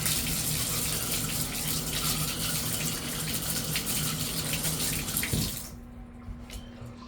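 Water pours steadily from a Delta tub faucet line after a cartridge replacement, a loud continuous gush that cuts off abruptly and leaves a few faint drips.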